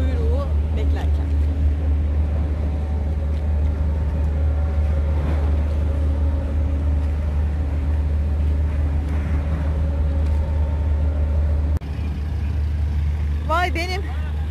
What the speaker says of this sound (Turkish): Araba feribotu kuyruğu beklerken.